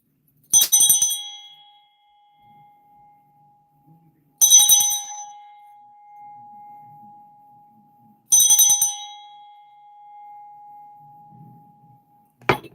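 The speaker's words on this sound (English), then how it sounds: "So I'm going to ring this bell," A hand bell is rung three times at even intervals, each a bright clanging strike that leaves a long, steady ringing tone fading slowly in a quiet room.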